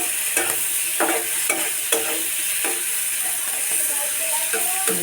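Mola fish frying in a pan while being stirred, a steady close sizzle broken by repeated sharp scraping strokes of a spatula against the pan, with faint voices in the background.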